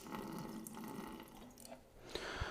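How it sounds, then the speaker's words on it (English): About two ounces of blue drain cleaner poured into a sink drain with a garbage disposal, a faint trickling and gurgling liquid stream with a few small drips, no talking. "just pour about 2 ounces down the drain"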